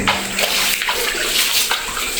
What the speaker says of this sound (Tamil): பைப்லைனால் தண்ணி வரும் போல் இருக்கு ஓ தண்ணி எல்லாம் வருது